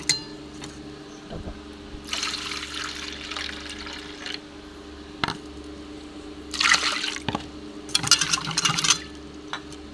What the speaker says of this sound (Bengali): মুগ ডালটা 2 বা 3 বার ধুয়ে নেব। কাঁচা মুগ ডালে আমি ভাজবো না, ভালো করে ডলে ধুয়ে নিই।